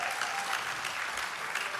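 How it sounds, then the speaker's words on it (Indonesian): A church congregation claps steadily for Jesus during a sermon, a dense, even wash of applause from many hands that holds at a constant level throughout. "tepuk tangan bagi Yesus"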